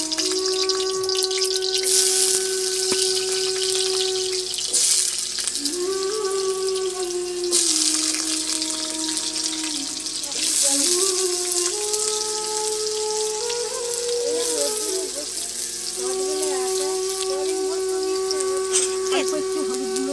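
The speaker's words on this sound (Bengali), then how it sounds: "এবার আলুটা ভেজে নেব।" Small chopped potato pieces sizzle in hot oil in a pan, a continuous frying hiss beneath a voice talking throughout, with occasional clinks.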